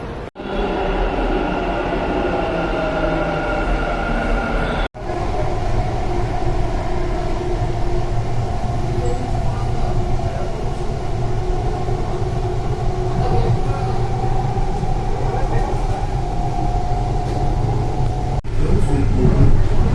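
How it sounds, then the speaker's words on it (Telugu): Steady loud rumble and whine of a Bangalore metro train arriving at a station, continuous throughout with a brief dropout near the start. "ఇక మన బెంగళూరు మెట్రో స్టేషన్ ఇదే, ట్రైన్ వచ్చేది ఇక్కడికే"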